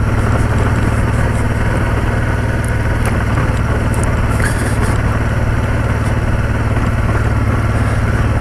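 A motorcycle engine drones steadily and loudly at close range while the bike is ridden off the beaten track on a camping trip, a constant rumble with wind noise and no talk.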